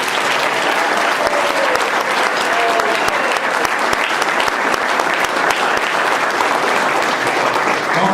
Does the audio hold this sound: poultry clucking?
no